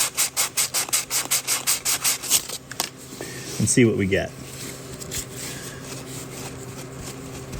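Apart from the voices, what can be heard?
sandpaper rubbing metal part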